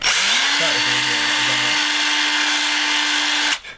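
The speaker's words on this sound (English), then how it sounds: "Now we're just going to take this drill and this hole." Power drill boring a hole for a DIY FPV pan/tilt hinge, a close, loud whining motor held steady for about three seconds before it cuts off abruptly.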